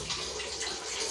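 Running tap water in a small bedsitter room, a steady broadband hiss of flowing water that holds through the short moment as the tap is being closed, with no voices.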